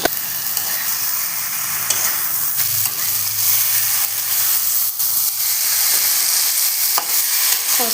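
Egg and potato fry in spiced oil with a steady, loud sizzle and occasional stirring scrapes throughout, with no talking.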